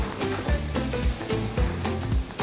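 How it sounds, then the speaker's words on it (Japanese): Chili being stir-fried slowly over low heat in a pan, a steady soft sizzle with repeated scraping stirs of the spatula at a regular rhythm, close and moderately loud with no talking. "弱くしてからゆっくり炒めて"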